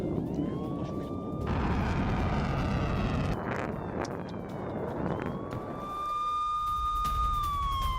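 An air raid siren in Tel Aviv during a missile attack wails, rises and holds steady in the distance, sounding twice with wind rumbling across the microphone throughout.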